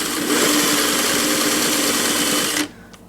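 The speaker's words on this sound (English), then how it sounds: "You have to actually sew" A sewing machine runs in one continuous close, loud burst stitching a pillow flap, steady whirring hum for about two and a half seconds before stopping abruptly.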